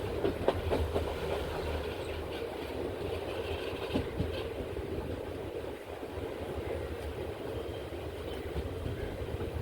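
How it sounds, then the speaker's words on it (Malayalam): A train rumbles in close by at platform 2 of Kochuveli station, wheels clicking over rail joints beneath a steady low roar, with occasional squeals and clanks; no one speaks. "കൊച്ചുവേളി സ്റ്റേഷനിലേക്ക് ട്രെയിൻ വന്ന് കയറിക്കൊണ്ടിരിക്കുകയാണ്."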